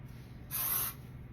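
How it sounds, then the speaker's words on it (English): A short, bright hiss of an aerosol hairspray, one burst lasting about half a second, close and fairly loud. "Then I'm going to take some hairspray again on my hand"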